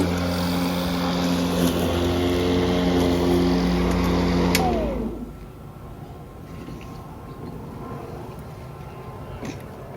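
A battery-powered lawn mower cutting a residential lawn, a steady close motor whine with a rising pitch sweep, cutting off abruptly midway and leaving faint outdoor background.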